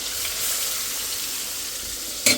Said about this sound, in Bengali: আর পাশের চুলায় হলো ভাজি বসিয়ে দিছি